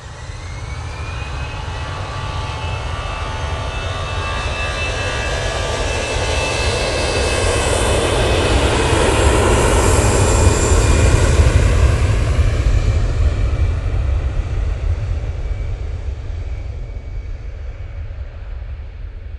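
An EasyJet jet airliner comes in to land, its engine roar swelling to a loud peak as it passes close, then easing off slightly, with a whining engine tone over a deep rumble and no talking.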